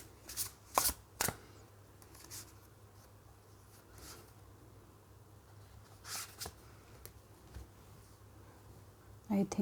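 Tarot cards being shuffled in short, crisp bursts of riffling, a few quick flurries near the start and more around the middle and end, fairly quiet against a low steady hum.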